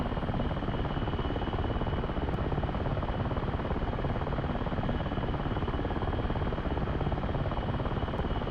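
Steady, loud helicopter rotor and engine drone from a DCS flight simulator, a continuous even roar with a broad buzzing texture that holds unchanged from start to finish.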